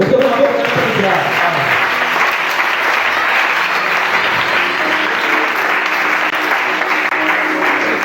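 A church congregation claps and cheers in praise of God, loud sustained applause that swells at the start and then holds steady for about eight seconds, with voices mixed into the crowd noise.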